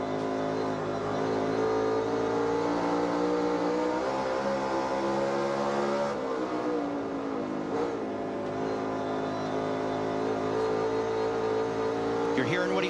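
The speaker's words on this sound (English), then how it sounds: "You're hearing what he's doing with the throttle" A NASCAR Cup car on the Bristol dirt track, its engine droning steadily with rising and falling throttle swells and a couple of dips in pitch, a commentator talking over the sound.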